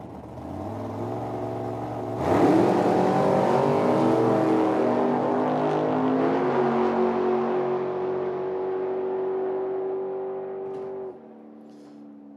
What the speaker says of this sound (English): McNally, tower side, dialed 653 in the Roadster. Jerry Brown dialed 683 in the Demon